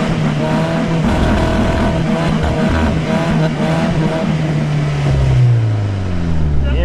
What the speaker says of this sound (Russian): УАЗ стал диагональным вывешиванием. и пытается выехать.